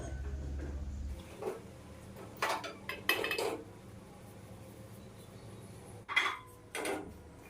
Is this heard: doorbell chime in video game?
no